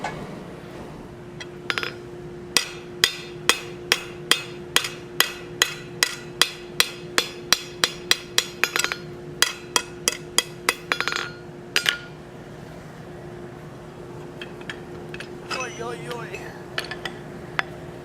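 Hot forged steel struck with a flatter on an anvil while a tent stake is forged into a rock bar, a steady run of sharp metallic hammer blows that thins out into lighter, scattered taps near the end.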